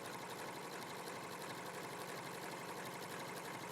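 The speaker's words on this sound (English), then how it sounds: "So to sew, you just need to do a blanket stitch or a zigzag stitch." A sewing machine runs steadily while stitching a quilt with a blanket or zigzag stitch, giving a dense, even, continuous mechanical whir close by with no pauses.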